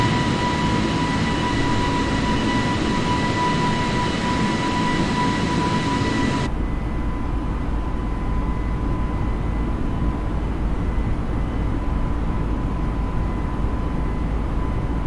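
Steady aircraft engine drone inside Microsoft Flight Simulator 2020, a continuous broadband roar with a thin tonal whine that drops in brightness halfway through and carries on evenly with no talk.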